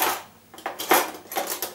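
A spoon clinks and scrapes against a bowl while lemon marinade is stirred for chicken fillets, with a few separate knocks and short scraping strokes, near and fairly quiet.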